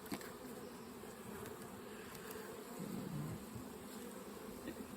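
Honeybees buzz around an open beehive during an inspection, a soft continuous hum with faint nearby rustling and no talk.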